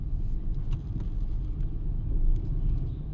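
A manual car pulls away slowly in first gear as the clutch is gradually released, giving a steady low engine rumble close by that swells slightly near the end, with no talking.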